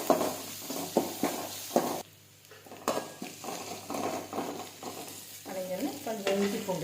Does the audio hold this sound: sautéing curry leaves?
yes